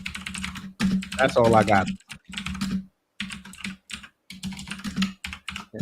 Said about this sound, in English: You hear me typing up these home row keys?